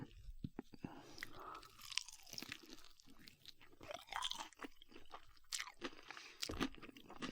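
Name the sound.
eating crunchy fried chicken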